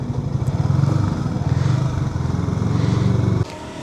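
A motorcycle is ridden up onto a boat, its engine chugging close and loud with a rapid pulsing idle and brief revs before dropping off near the end.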